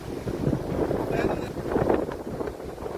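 Blustery wind buffets the microphone in rough gusts outdoors, with faint voices mixed into the roar.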